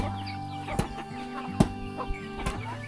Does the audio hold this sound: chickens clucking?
yes